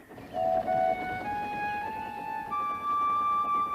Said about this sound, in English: Donald set off with the breakdown train